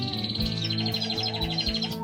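Mixed aviary birds, finches among them, chirp and tweet continuously in a busy overlapping chorus, with repeated bright calls standing out against steady low background hum.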